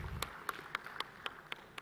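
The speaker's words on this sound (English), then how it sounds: "Let's have a round of applause, ladies and gentlemen, for Mr. Arun Ramchandani." Sparse, faint hand claps at a National Space Day celebration in India, about eight distinct claps spaced roughly a quarter second apart, quiet and distant with no one speaking.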